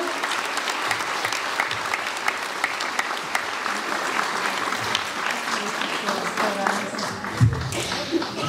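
Loud, dense applause from a large theatre audience after a play, steady throughout, with a few voices faintly mixed in near the end.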